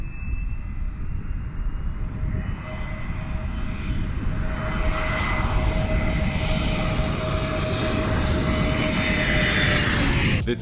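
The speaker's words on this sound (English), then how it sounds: "This plane flying really close to a flock of birds." An airplane flies close past a flock of birds, its engine roaring steadily and loudly with a rising whine and a broad rumble that grows toward the end, with no voices.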